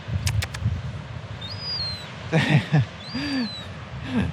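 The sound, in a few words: young seagull calling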